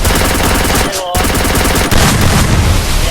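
Rapid automatic gunfire from the video game Free Fire rattles loudly in fast, regular bursts, with a brief pause before it resumes.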